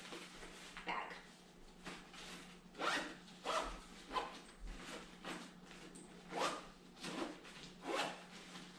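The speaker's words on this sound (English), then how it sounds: "They're a lot easier to zip up this time around because I didn't stuff them like I have done in the past" Packing cubes being zipped shut, a close series of quick rasping zipper strokes repeating in a steady rhythm, with no talking.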